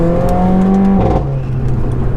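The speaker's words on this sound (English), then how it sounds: "Mercedes have engineered that noise of the exhaust of the AMG range" A Mercedes-AMG A45 exhaust roars loud and close, its engine note dropping abruptly on a downshift and settling into a lower, rumbling drone.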